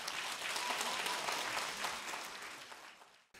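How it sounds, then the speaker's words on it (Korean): An audience at a symposium marking the 70th anniversary of Jeju 4.3 gives sustained, dense applause that gradually fades toward the end, heard alone without talk. "제가 실수할 때마다 뜨거운 박수 부탁드립니다."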